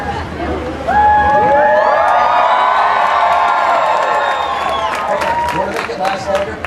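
A crowd at a Renaissance festival juggling show roars, whoops, claps and cheers loudly, building into a sustained near wall of voices and applause that stays strong throughout.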